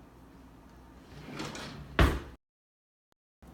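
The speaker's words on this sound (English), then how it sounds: "Close the drawer." A kitchen utensil drawer rolls shut after a soft sliding rattle, ending in one sharp closing knock, then silence.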